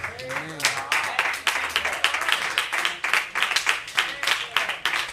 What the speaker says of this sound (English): Clap those hands and give God a praise.